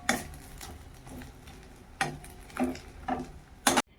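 Fish fries quietly in a pan under a low sizzle. A few sharp spatula scrapes and clatters come in bursts, and one louder knock sounds near the end. No one speaks.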